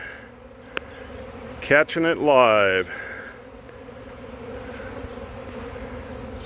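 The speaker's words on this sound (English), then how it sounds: "The whole sky is full of bees." A honey bee swarm buzzes as a soft, steady drone filling the open air outdoors, while a person speaks briefly over it in the middle.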